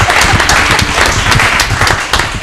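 An audience claps at a county commissioners candidates debate in Pahrump, loud, dense and close, sustained across the whole moment.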